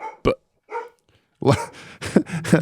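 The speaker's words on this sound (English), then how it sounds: "Now the dog" A dog in an animated cartoon gives several short, sharp barks, some spaced apart and others clustered, with voices talking in between.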